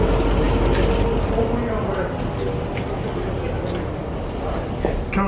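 A passenger train hauled by a large locomotive rolls along rails between Belgrade and Sofia, giving a steady loud rumble with clanking and rattling mechanisms throughout.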